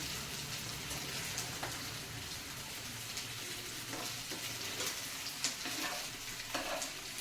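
Frying in a pan for an egg curry gives a soft, continuous sizzle with scattered crackles and light stirring or turning sounds, no voices.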